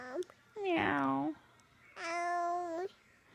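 A small child imitates a cat's meow twice in a high, drawn-out voice, the second meow longer and steadier, close to the listener in a quiet room.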